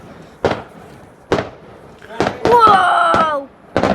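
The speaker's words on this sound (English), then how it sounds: "That has multiple fireworks!" Bonfire night fireworks thump and crack in a string of sharp bursts, one launch trailing a whistling screech, loud and close in the open air, with excited voices between.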